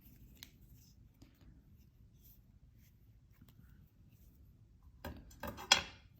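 Wire cutters snipping jewelry wire, a quick close metallic snip and brief rustle near the end after a stretch of near silence with faint handling noises.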